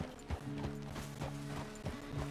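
Horse hooves clip-clopping at a walking pace in Red Dead Redemption 2, the steady thuds arriving in a regular rhythm over a background of tonal game music.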